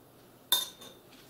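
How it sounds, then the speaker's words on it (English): A spoon stirs fruit salsa in a bowl, giving one sharp metallic clink followed by a couple of softer scrapes in a quiet room. "give it a nice stir"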